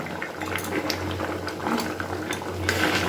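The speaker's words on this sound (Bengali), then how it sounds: "ডালটা বেশ ভালোভাবে ফুটে গেছে" Dal (lentils) boiling in a pot: a steady, close bubbling simmer with continuous small pops and gurgles and a low rumbling undertone, unbroken for the full length with no voices.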